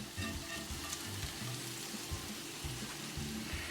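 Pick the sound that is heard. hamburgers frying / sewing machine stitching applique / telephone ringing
hamburgers frying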